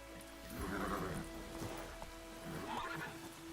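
Roach, the horse in The Witcher 3 video game, lets out a clear whinny, then a second neigh a moment later, with soft hoofbeats and game ambience underneath.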